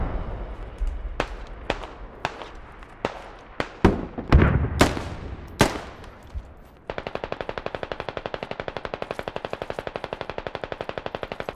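Modded Squad combat set in a Middle East conflict: a series of loud, separate gunshots and blasts, then a long burst of rapid, evenly spaced automatic fire.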